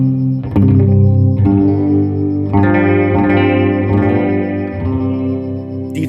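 An electric guitar with a wood bridge and wood tailpiece is played through effects, thick, bold sustained chords ringing with chorus and light distortion, played alone and loud.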